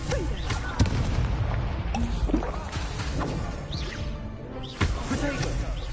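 Confringo fire-spell blasts in the Hogwarts Legacy video game, repeated sharp booms and crashes over a busy battle din, with a voice calling out spells throughout.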